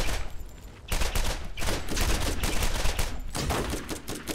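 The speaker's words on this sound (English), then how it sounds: "Oh, I think I just shot the back of your head by accident." Rapid bursts of gunfire from the co-op shooter game Borderlands, loud clustered volleys of shots in quick succession with no talk over them.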